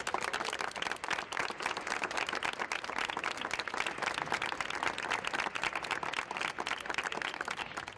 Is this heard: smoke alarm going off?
no